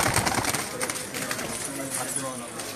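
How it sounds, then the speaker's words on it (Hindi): Pigeons on a rooftop in Jeddah, Saudi Arabia, with soft cooing and fluttering through a busy, noisy outdoor background, mid-distance and fairly steady throughout. "ये सब जो है उड़ने वाले कबूतर दिखा रहे हैं हम आपको।"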